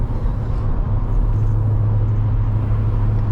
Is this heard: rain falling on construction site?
no